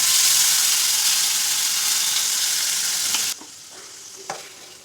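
Spices and masala sizzle loudly in hot oil for a kakera and matar curry, a steady frying hiss that drops off sharply partway through, followed by a few faint stirring clinks.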